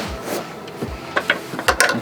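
A ratchet on an extension bar clicks in short bursts and scraping turns while undoing seat bolts in a Ford Transit van. The sound is close and fairly quiet, with no speech.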